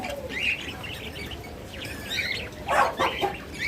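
Pet cockatiels, lovebirds and budgerigars chirp and tweet in a busy cluster, several birds calling at once with brighter bursts near the end, with no talking.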